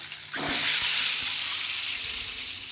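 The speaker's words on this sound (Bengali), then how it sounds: "এখন আমি হলুদ দিয়ে দিয়েছি সরিষার তেলে ডিম আলু দিয়ে" Eggs and potatoes hit hot mustard oil with turmeric and break into a loud, steady sizzle from about a third of a second in. The frying stays close and continuous, with a few soft stirring knocks underneath.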